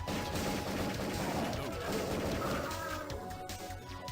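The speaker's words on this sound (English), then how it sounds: "Apparently shooting the grenade sets it off too." A grenade is shot and explodes in a PlayStation full-motion-video game, a loud, dense rumbling blast that holds steady for several seconds and fades slightly toward the end.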